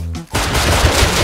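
Loud, close gunfire in the survival game Rust, a continuous dense burst of rapid shots kicking in after a brief pause, with no talk.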